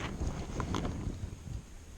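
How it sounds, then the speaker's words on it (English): Strong wind gusts across a lake and push a kayak during bass fishing, a faint, continuous rushing buffet of wind against the microphone for a couple of seconds. "this wind has gotten up so strong that it's pushed me over into this little"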